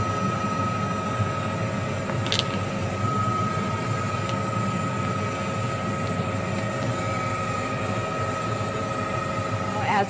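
A news helicopter hovering above a police chase in a metro area, its steady rotor and engine drone continuous and fairly loud throughout, with faint talk underneath.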